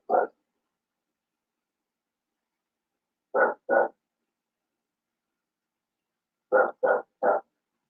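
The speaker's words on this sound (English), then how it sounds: "One barking up here, one barking outside" Dogs barking indoors and nearby: a single bark, then a quick pair of barks, then a burst of three, each short and sharp with silent gaps between.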